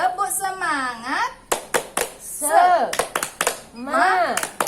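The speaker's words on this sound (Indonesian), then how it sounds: "tepuk semangat" A group in an Indonesian maternal health and nutrition session claps in a rhythmic pattern, sharp hand claps alternating with chanted voices, close and lively.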